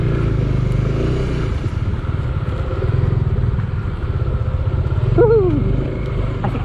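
A Honda CB150X motorcycle speeding up on an off-road trail, with a steady near engine drone and pulsing exhaust throughout, plus a brief rising whine near the end.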